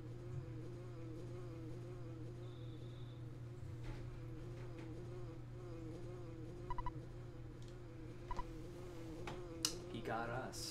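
A steady insect-like buzzing from the Earthbound video game hums continuously at low level, with small clicks and blips from the game scattered on top.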